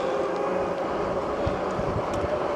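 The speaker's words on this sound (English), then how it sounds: "Got a hill, you give it a little throttle." A large motorcycle ridden up a hill on a dirt road is given a little throttle, its engine a steady, close, continuous rumble with a slight rise in pitch and no talk over it.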